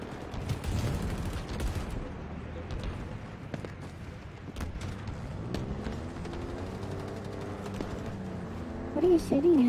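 Scattered gunshots in Halo Infinite, sharp separate cracks spread across the stretch against game ambience and low background sounds.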